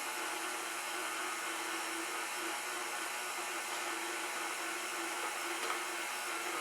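A KitchenAid stand mixer runs at speed 2 mixing bread dough, giving a steady, loud, even motor whir throughout with no break or talking.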